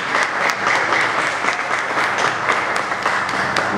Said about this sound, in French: Acclamons-le tandis que nous allons lui célébrer.